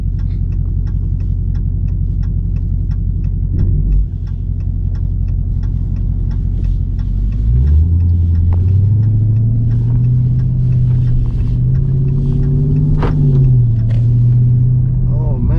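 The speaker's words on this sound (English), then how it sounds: "Second time driving a Hellcat." Deep rumbling engine of a Dodge widebody Hellcat Charger on the move, a heavy steady drone that climbs in pitch as it accelerates, heard from inside the cabin with ticking in the background.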